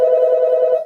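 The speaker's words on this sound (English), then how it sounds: "And the phone is ringing." A telephone rings during a live morning museum broadcast, one steady, loud electronic ring heard close and alone for under a second.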